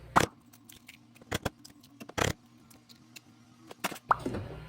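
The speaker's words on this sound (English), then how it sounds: "please crack an eggs first" Eggs are cracked one after another on a bowl rim in a home kitchen while preparing Japanese soboro don, giving several sharp, close taps and cracks spaced over a few seconds against a quiet low hum.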